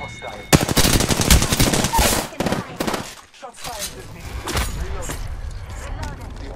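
Rapid bursts of automatic gunfire from the video game Apex Legends, loud and dense in the first half, then sparser shots and game noise, with a player's voice talking over the action.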